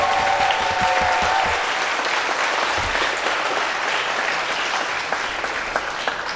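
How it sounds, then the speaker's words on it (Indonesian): A theatre audience claps after a stage performance, strong sustained applause from a large crowd that tapers slightly toward the end, with scattered individual claps standing out. "Selamat tepuk tangan sekali lagi"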